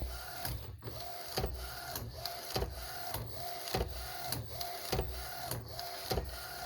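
A direct-to-film (DTF) transfer printer runs steadily, its print head carriage shuttling back and forth in a regular rhythm of mechanical whirs and clunks roughly every half second, close and moderately loud, with no talking.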